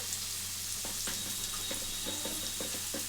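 Carrot and garlic fry quietly in a pan for a spicy garlic chutney, a soft steady sizzle broken by a handful of short crackles and pops, no talking.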